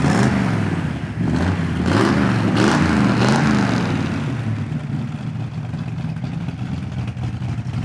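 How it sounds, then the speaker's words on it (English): A 1964 Ford Galaxie 500 with a factory 394 engine rumbles deep and loud, revving up a few times early and then settling into a steadier drone, with no talk over it. "Great sound coming from that big black Ford."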